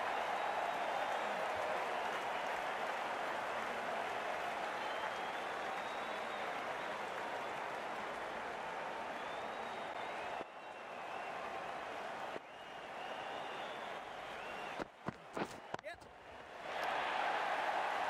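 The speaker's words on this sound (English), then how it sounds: "The crowd on their feet." Video game crowd in a NACO spring season match between the Miami Gators and Chicago Bullmoose, a steady loud roar of cheering and applause that dips briefly several times near the end before surging back.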